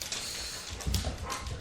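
Puppy whimpering and yelping in short, close whines and a brief low bark-like burst, heard alone without talk.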